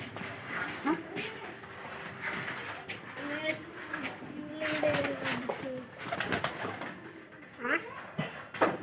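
Domestic pigeons coo softly nearby in low, rolling phrases that repeat several times. A voice speaks over them through much of the clip.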